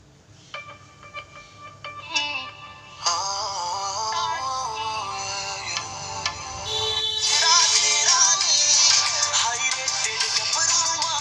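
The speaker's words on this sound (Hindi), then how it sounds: "कोई और सा गाना बजा के दिखाता हूँ आपको" A song plays loud and full through the speaker of an Infinix S4 phone, music with steady melody lines that swells brighter and louder in the final seconds, with no talking over it.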